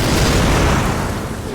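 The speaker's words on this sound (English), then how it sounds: "Apparently we can shoot the cannon" Cannon fire in the video game Crysis 2 Remastered lands as a loud, dense boom that fills the moment and then slowly tails away.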